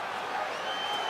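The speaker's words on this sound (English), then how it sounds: "Of course, anything that Joseph Parker does, the crowd goes bonkers here." A boxing crowd in Auckland roars steadily through a Joseph Parker versus Carlos Takam bout, a dense wash of cheering and shouting that stays loud and unbroken for the whole moment.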